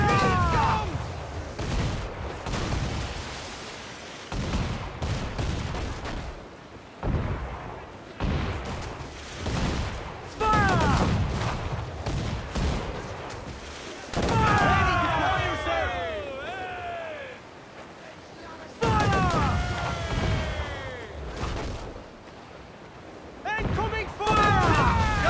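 Ship cannons fire in a naval battle in Assassin's Creed IV: Black Flag, loud repeated booming volleys with bursts and crashes, mixed with game music and a voice talking over the action.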